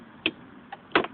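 Hazard lights on a Direct Bikes Viper 50 scooter tick in a quiet setting, with three faint, close clicks spread irregularly across about a second.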